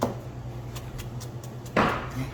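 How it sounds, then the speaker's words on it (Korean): A knife cuts julienne strips of vegetables such as carrot and bell pepper for japchae. Light, rapid taps hit a cutting board, followed by a heavier chop near the end, close and clear. "이렇게 곱게 채를 썰어 주시면 됩니다"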